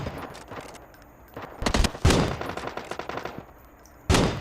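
Bursts of gunfire from PUBG Mobile, including a double-barrel shotgun: a short volley, then a rapid run of sharp, close automatic shots, and another loud blast at the end, with no talking.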